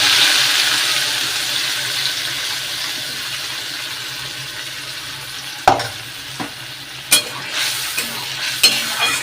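A torn bay leaf and spices fry in oil in a kadai after potatoes and fish were fried, making a continuous hiss that later picks up a few sharp knocks and scrapes from the pan.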